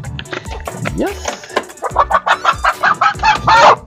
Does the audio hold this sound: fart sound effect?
no